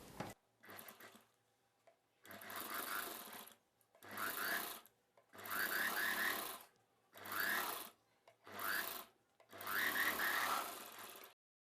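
Sewing machine stitching a buckram piece on a sleeveless umbrella dress, in six or seven short rattling bursts separated by brief pauses, fairly close.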